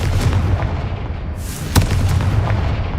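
A Confringo spell explosion in Hogwarts Legacy, a loud booming blast with a deep rumbling roar beneath a sharp crack, set against heavy continuous game noise.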